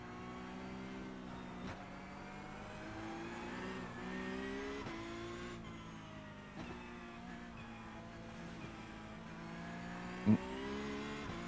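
A Porsche Cup race car engine in iRacing drones steadily, rising and dropping in pitch as it revs through gear changes, with a brief sharp click near the end.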